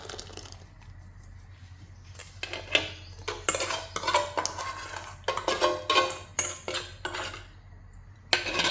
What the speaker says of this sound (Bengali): একটু ঠান্ডা দুধ দিয়ে গুলিয়ে দিয়ে দিচ্ছি।